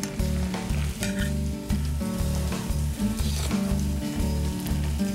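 Chicken pieces deep frying in bubbling oil, a dense constant sizzle and crackle heard up close, with a low rhythmic hum or music running underneath throughout.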